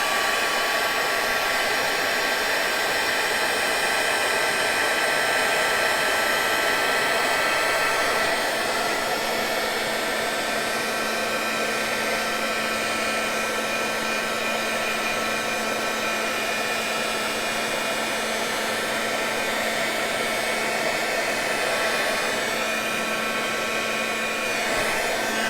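A heat embossing tool blows hot air over an altered book page, a constant close, loud whooshing fan hum with a high whine that holds steady for the whole stretch, with no talking.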